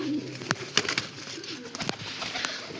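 Soft coos of white Malwai pigeons sound close by in a quiet space, with a few sharp clicks and faint rustles around them.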